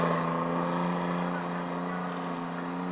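An Alvis military tank with a 190-horsepower Jaguar 4.2 litre engine drones steadily and loudly at a steam and vintage vehicle rally, a continuous rumbling hum with no pauses.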